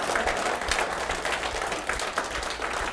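A standing audience at a business seminar on phone sales claps fast and steadily with hands raised overhead, a dense, continuous wash of applause close by with no speech.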